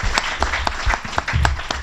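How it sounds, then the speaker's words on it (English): A crowd applauds, a burst of many hands clapping steadily at close range for a couple of seconds. "Let's give Lou another round of applause."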